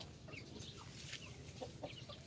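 Rhode Island Red chickens cluck softly on a farm, several short clucks and murmurs scattered over a faint, steady background, fairly quiet and without talk.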